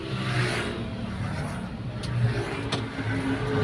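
Car engine idling steadily at 750 RPM gives a low, quiet, even hum that runs throughout, with a few faint clicks along the way.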